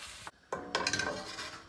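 Ground beef and onion cooking in a pan, quiet clinks and scrapes of a utensil against the pan over a low sizzle, with a brief gap of near silence near the start.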